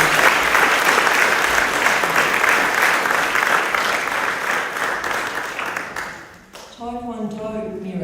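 Dense audience applause fills a sports awards ceremony, loud and steady for about six seconds, then fades as a voice begins speaking.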